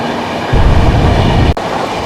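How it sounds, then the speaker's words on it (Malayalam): Tirunelveli-Jamnagar Express train 3711 rushing past on the rails in Thrissur district, Kerala, a loud close rumble that surges at the half-second mark and holds steady, with a sharp break near the end and no voices. "തിരുനെൽവേലി ജാംനഗർ എക്സ്പ്രസ് ആണ് 3711."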